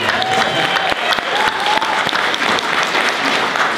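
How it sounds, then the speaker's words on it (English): Steady, dense applause from a crowd, continuous and fairly loud throughout with no pauses. "feel free to clap. I love clapping."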